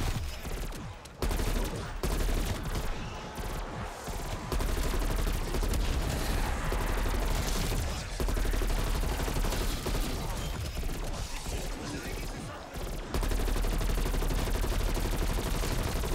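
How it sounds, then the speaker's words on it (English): Sustained M16 rifle fire in a zombies video game, dense and loud, with a few short pauses in the shooting and no voices. "I'm gonna shoot with my M16 until"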